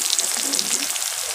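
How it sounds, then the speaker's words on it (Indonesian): Thin cassava slices fry in hot oil, a steady close hiss of bubbling and crackle running evenly throughout with no talk. "diiris tipis-tipis, kemudian digoreng"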